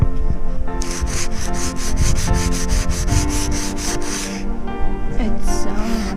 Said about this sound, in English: We are sanding.